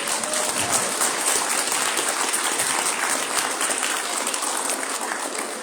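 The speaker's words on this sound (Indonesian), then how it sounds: "Sekali lagi saya mohon aplaus untuk tim konsumsi" Audience applause for the catering team at a Muslim convention in Los Angeles, a dense, steady wash of many hands clapping for several seconds, loud and continuous, with no talking over it.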